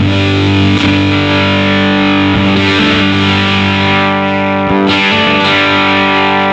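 Heavily distorted electric guitar through an MMK Electrics Pavlof fuzz pedal set to 10, thick fuzz, sustained chords ringing loud and saturated, with a few re-struck attacks; no voices.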